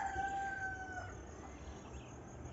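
Farmyard chickens with a rooster crowing once at the start, a long two-part call, followed by quiet low clucking and ambient noise, all fairly faint and distant.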